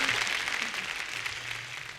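Applause from a large school crowd at a debate final, a steady patter of many hands clapping at moderate volume, fading slightly over two seconds, with a faint low hum beneath.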